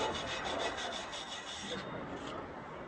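Wire brush scrubbing a weld root pass on steel practice plates, a quick rhythmic scratchy rasp, close but fairly quiet, with no talk.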